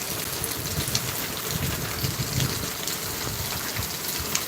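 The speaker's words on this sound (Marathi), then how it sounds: "चला म्हणजे असा पाऊस आहे सगळा बघा" Heavy monsoon rain pours down in Mumbai in a dense, continuous hiss of drops striking surfaces, steady and enveloping with no pauses.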